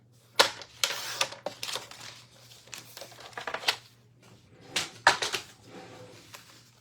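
Cardstock being cut in a series of short, sharp snipping and slicing bursts, roughly a dozen irregular crisp cuts close by against a faint steady hum, with no talking.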